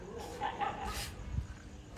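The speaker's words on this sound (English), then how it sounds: "packs of these homeless dogs just walking around and look at all these dogs" Stray dogs on a street in Pattaya, Thailand, give short barks and yips over steady street noise, with a few brief whimpers in between.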